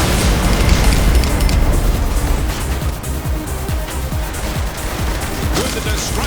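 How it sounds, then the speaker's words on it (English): Explosions and destruction from the video game Saints Row 3 Remastered: a dense, continuous wash of booms, crashes and debris that stays loud throughout, with low rumbling thuds repeating underneath. "With the destruction and explosions our audience is seeing here today"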